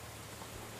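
Steady rain hisses without a break in the video game Medieval Dynasty, a fairly quiet, even wash of noise with no distinct drops or voices.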